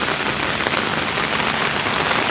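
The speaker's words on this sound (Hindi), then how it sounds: "आज इस्लामाबाद में तकरीबन इस वक्त आधे घंटे से बारिश हो रही है।" Steady, dense rain falls in Islamabad, a loud, continuous hiss of drops on surfaces with no pauses and no voices.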